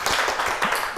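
Classroom applause, a short burst of brisk clapping from a small group of students, close and lively over about a second.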